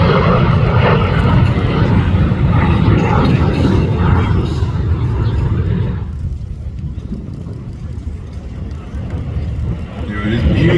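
A Fairey Swordfish biplane passes over an air display at the Midlands Air Festival, its loud engine drone filling the first half before fading to a lower rumble, then swelling slightly again at the end.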